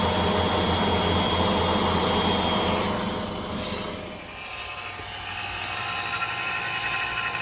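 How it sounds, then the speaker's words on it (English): A Harbor Freight vacuum pump pulls vacuum on the AC system of a 1994 Mercedes C280 through a gauge set hose, giving a loud, steady mechanical drone that dips briefly midway and then resumes. No one speaks. "I got a Harbor Freight vacuum pump, and I connected my recharge and vacuum hose from my gauge set, and I am sucking negative pressure."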